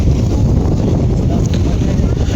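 Strong wind roars steadily through the Nallamala forest, a dense, low, unbroken rush buffeting close to the microphone for the whole stretch.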